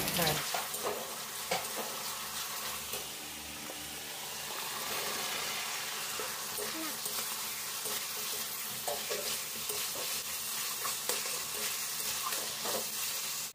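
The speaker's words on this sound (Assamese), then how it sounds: "তাৰপিছত মানে শাকখিনি ভাজি কৰি লওঁ" Steady sizzling of leafy greens frying in oil, with scraping and stirring sounds throughout, close and continuous with no talking.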